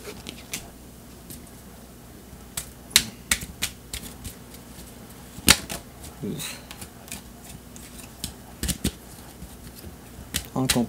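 Tarot cards are shuffled and drawn by hand in a quiet room: scattered sharp snaps, flicks and papery slides arrive irregularly, some crisp and loud, over a low murmur of voice.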